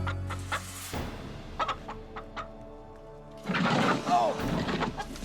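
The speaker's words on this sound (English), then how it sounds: "I got the chicken!" A chicken on an island clucks amid outdoor background noise, a few short clucks scattered through, with a louder rustling burst near the end as it is caught.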